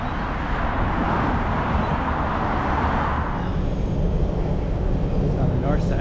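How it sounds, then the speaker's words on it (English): Car traffic beside a harbourside walking path near Harbour Bridge, a continuous close roar of passing vehicles that eases after a few seconds into a lighter rumble. "there's a kind of a noisy walk with the car traffic right next to it"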